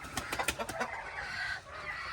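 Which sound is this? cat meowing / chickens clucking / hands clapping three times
chickens clucking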